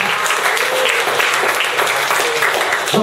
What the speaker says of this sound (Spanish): Voy a dar un aplauso a Cristo.